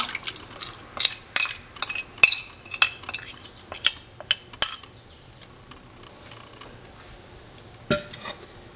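Roasted coconut paste is scraped into a pot of fish curry with a run of sharp metal spoon clinks and taps against the vessel, then a quieter pause and one last knock.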